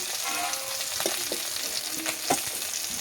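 Fish sizzles steadily in hot oil in a kadai, a dense crackling hiss broken by a few soft clicks and scrapes as the pieces are stirred and turned.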